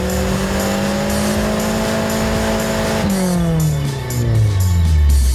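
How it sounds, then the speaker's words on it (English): Mitsubishi cars at a dyno challenge during a Mitsubishi owners' event, engines revving hard on the rollers, one loud, steady high-rpm drone that shifts into falling and rising pitch sweeps as another run builds, close and continuous. "We got the dyno challenge going on behind us."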